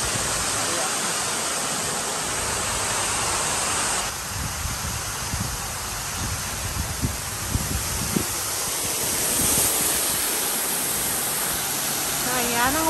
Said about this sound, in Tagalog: Ayan ang waterfalls.